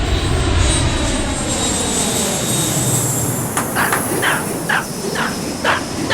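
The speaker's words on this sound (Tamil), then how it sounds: "ஓ, ஃப்ளைட்டை பார்க்குறாங்களா?" A fixed-wing airplane passes overhead with a steady, loud broadband roar and hiss that holds for several seconds, and a few short chirping sounds rise above it toward the end.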